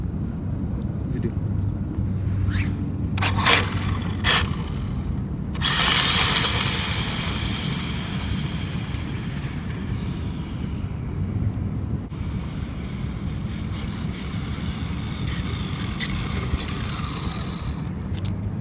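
A rebuilt RC front-wheel-drive Honda drag car on a soft tune makes repeated pulls, high electric whines rising in short bursts, then a longer run, with background hum and occasional talk.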